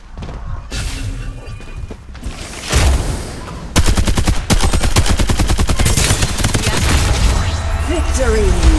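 Rapid bursts of automatic gunfire in the battle game Farlight 84, dense machine-gun volleys and sharp shots ringing close and loud, with crashes and booms between them and game voice callouts heard at times.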